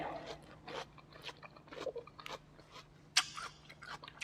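Crisp, wet crunching of chilled snow lotus (yacon) being bitten and chewed up close, irregular bites and chews at a moderate level with one sharper loud crunch near the end.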